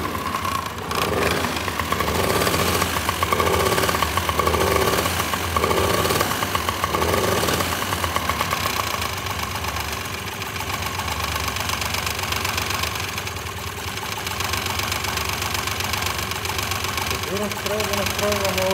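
A Honda Dio 63cc scooter engine runs steadily while being tuned, with a constant mid-pitched hum and some rhythmic pulsing near the start; voices talk over it.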